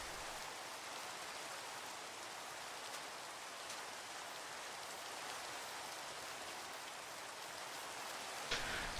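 Steady rain falling in the Minecraft video game, a dense even hiss of drops that holds at a constant level for the whole stretch, with a brief louder patter near the end and no voices.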